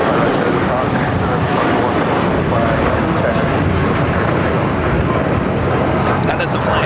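A United Airlines Boeing 787-10 Dreamliner jet bound for Newark roars on runway 25 right at LAX, a loud, steady, close engine rumble filling the whole stretch, with faint voices beneath it.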